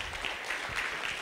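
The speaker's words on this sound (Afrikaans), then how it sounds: "Kom ons gee vir die Here 'n lekker hande klap" A church congregation claps hands together in a short, dense burst of applause that holds steady throughout, filling the room with no voices over it.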